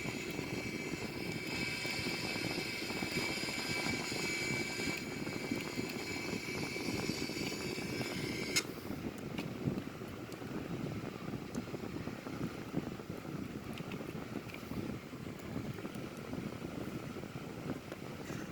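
Airbus A340-313X climbing out after takeoff near Munich, heard as a steady broadband engine roar with a whining tone that drops away partway through, continuous and moderately loud.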